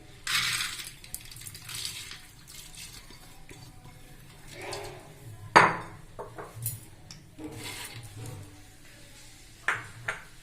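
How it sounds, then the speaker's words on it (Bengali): Dry lentils for a mixed panchratna dal patter into a pressure cooker in a few separate pours. There are sharp pinging clinks against the metal and quieter rustles between them, close and fairly clear. "প্রেসার কুকারে ডালগুলো দিয়ে দিলাম"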